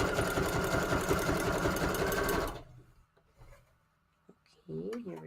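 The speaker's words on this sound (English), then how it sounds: "The sewing machine also helps." A sewing machine stitching a paper tag runs with a loud, steady mechanical whir for a couple of seconds, then stops, leaving faint handling sounds and a brief rustle.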